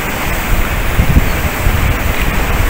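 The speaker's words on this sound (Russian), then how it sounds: "Единственное, что океан очень такой сильный." Strong ocean surf rolls onto a sandy beach on Tenerife, a loud, continuous wash of breaking waves with rhythmic surges and no voices.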